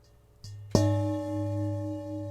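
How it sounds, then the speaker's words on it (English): A bowl struck once after a softer initial tap, ringing out with a sustained, steady metallic tone that lingers clearly and alone without fading much. "an object that is played percussively by striking it, as I'm going to do momentarily here with this bowl"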